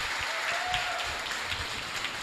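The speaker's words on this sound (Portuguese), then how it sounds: "Então, uma salva de palmas para os nossos colegas filiados." Audience applause for union members at a union congress, a steady dense wash of many hands clapping throughout, with a faint whistle or tone briefly audible early on.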